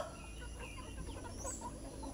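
Chickens cluck on a native-chicken farm in the countryside: close, busy clucking that continues without pause and without voices.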